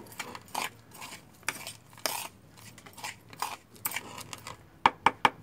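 A spoon scrapes and taps against a container while scooping fertilizer, including used coffee grounds, for a cactus: repeated close, light metallic clinks at irregular intervals, ending in three sharper taps.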